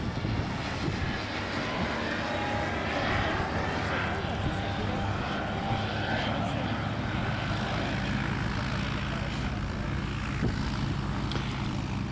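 A Viper SD4 light propeller plane drones loudly overhead while flying aerobatic rolls at an air show, a steady, rough engine roar that barely rises or falls.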